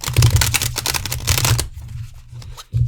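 A large tarot deck is riffle-shuffled in two close, crisp bursts of rapid card flutter and snapping, followed by a quiet pause and a short thump at the end.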